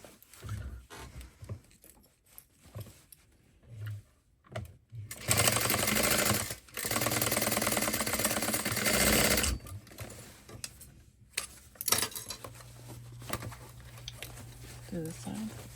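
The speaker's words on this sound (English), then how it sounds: "I'm going to sew these on and just baste them into place real quick." A sewing machine runs in two long continuous bursts while basting pieces of a small tote bag together, steady whirring stitching near and loud, with quiet handling sounds and brief talk in the gaps.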